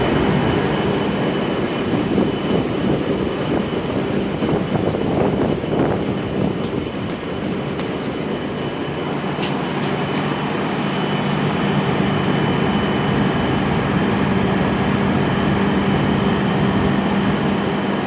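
An E7 series Hokuriku Shinkansen train pulls into Kanazawa station and comes to a stop, giving a continuous heavy rolling rumble with faint wheel squeal and a brief clank midway, lasting the whole stretch.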